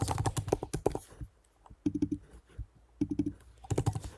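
Clicky computer keyboard typing comes in three quick bursts with short pauses between them while a username and password are entered. It is close and moderately loud, with no voices.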